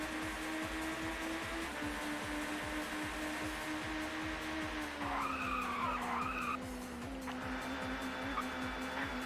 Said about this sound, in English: Slammed the brakes on, but meant that I made it round the bend very cleanly.